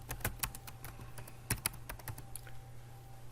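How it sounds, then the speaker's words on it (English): Typing a name on a computer keyboard to answer a chatbot: quiet, close, irregular key clicks spread across a few seconds with no talking. "So then you type in your name."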